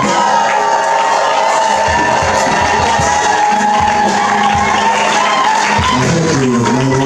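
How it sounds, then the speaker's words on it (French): Loud, dense crowd cheering and joyful shouting with whoops, a continuous roar of many voices close by. "c'est la besoin des cris de joie, des acclamations"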